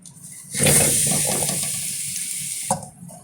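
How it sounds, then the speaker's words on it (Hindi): Potatoes dropped into two tablespoons of hot oil in a kadhai set off a sudden loud hiss and sizzle that holds for about two seconds, then cuts off. "2 टेबल स्पून मैंने ना इस कढ़ाई में ना तेल डाल लिया है। अब मैं ये इसमें ना आलू डाल दूंगी।"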